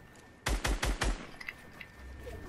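Four rapid, loud hunting rifle gunshots ring out in Fortnite, evenly spaced in a tight burst, followed by faint lighter pops and quiet background game ambience.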